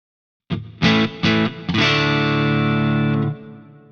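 A few distorted electric guitar notes through a Friedman DS40 Dirty Shirley amp sim on the low input, struck in quick succession, then a sustained chord ringing out and cut off, close and fairly loud.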